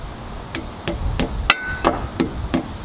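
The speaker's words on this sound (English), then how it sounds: "Kind of need a hammer." Steady hammer blows driving anchors, about seven sharp metal strikes spaced roughly evenly, close by, with a brief ringing tone after one hit.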